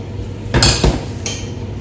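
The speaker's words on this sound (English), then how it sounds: "what I am basically doing now is mixing up the wet ingredients" A spatula mixing wet banana cake ingredients, mashed banana and oil, in a bowl: a couple of sharp knocks and clinks against the bowl, one double hit followed by a lighter single tap, close and loud with no talking.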